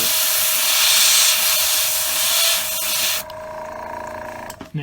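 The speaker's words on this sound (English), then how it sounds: "Spray the edges of" Spray paint hisses steadily onto the edges of a wooden flat-back shad fishing plug, a loud continuous airy spray that cuts off abruptly near the end, followed by faint handling noise.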